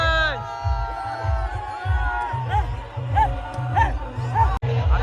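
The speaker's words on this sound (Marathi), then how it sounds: "जल्लोष बघा जल्लोष" Crowd of revellers at the Apta Koliwada Holi procession cheering and shouting amid a pulsing drumbeat and festive music, with voices whooping and chattering close by throughout.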